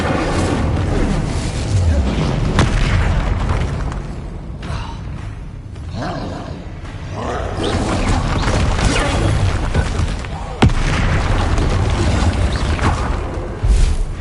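Incendio fire spell bursts in Hogwarts Legacy combat, loud booming blasts and crackling impacts repeating throughout a dense, continuous battle mix with a sharp hit near the end.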